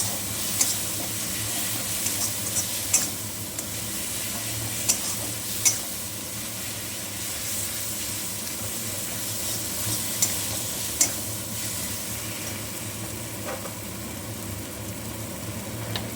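Cumin seeds frying in a pan with pabda fish, a constant close sizzle with occasional soft clicks and taps of stirring over sixteen seconds.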